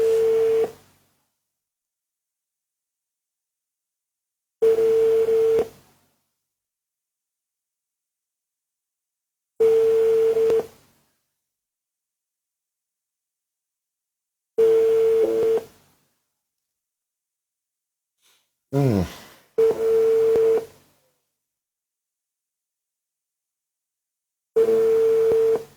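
A telephone call-back tone repeating steadily, a short steady tone burst roughly every five seconds with silence between, fairly loud and clear with no talk over it.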